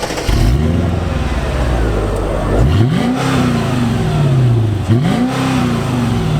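A Mercedes C55 AMG engine revs up sharply twice from a steady, fairly quiet idle, each rev climbing and then settling back down, loud and close by.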